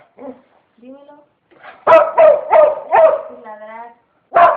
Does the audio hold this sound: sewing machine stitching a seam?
no